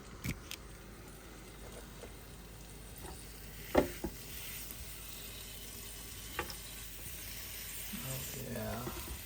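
Pork chops sizzle steadily on a Ninja indoor grill, a soft continuous hiss with a few sharp clacks from handling, close by and fairly quiet, with a voice faintly present near the end.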